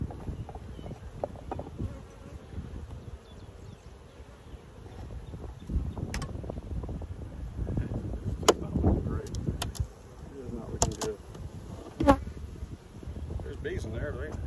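Honeybees buzzing in an opened hive during an inspection: a continuous low drone with louder surges as bees pass close, punctuated by sharp clicks and knocks of handled equipment, while a person speaks intermittently.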